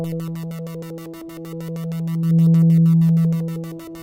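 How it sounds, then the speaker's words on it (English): A steady, pure synthesizer sine-wave tone hums low and constant, swelling louder in the middle before easing back, with a faint rhythmic pulsing above it. "it actually brings out the underlying sine wave that is the basis for the sound"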